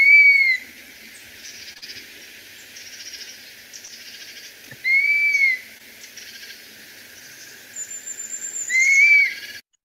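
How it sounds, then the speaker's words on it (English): Dusky-capped flycatcher giving plaintive, rising-and-falling whistled calls, three clear phrases spaced several seconds apart over a faint insect-like background hum. "This is what dusky cap flycatchers sound like."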